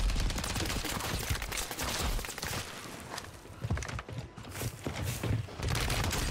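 Rapid gunfire crackles in Warzone, dense bursts of shots running almost continuously at close range with no voices over them.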